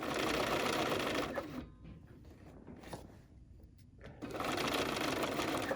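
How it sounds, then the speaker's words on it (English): A sewing machine runs a seam along a marked line on fabric for a bear's nose, giving a close, steady motor whir that breaks off in the middle with a short quiet gap and then starts again. "I'm going to stitch right on that blue line"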